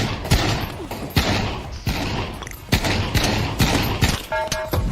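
Desert Eagle pistol in modded Skyrim VR firing a rapid string of sharp gunshots, a dozen or so loud cracks at uneven intervals with thuddy impacts between, ending with a brief electronic tone.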